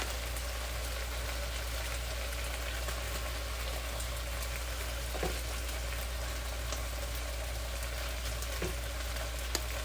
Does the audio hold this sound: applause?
no